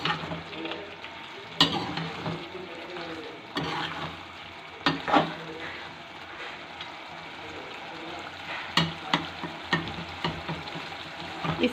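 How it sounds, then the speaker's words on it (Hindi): Chicken qorma frying over high heat in a pan, with a steady sizzle broken by sharp scraping stirs and clinks of the spoon, close and fairly loud throughout. "इसको चूल्हे की आंच थोड़ी तेज़ कर लें, तेज़ करके इसको अच्छे से फ्राई करें।"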